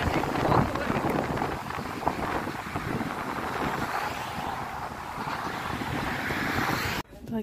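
Strong wind blows outdoors, buffeting the microphone with a loud, continuous roaring rumble and gusty swells that cut off abruptly at the end.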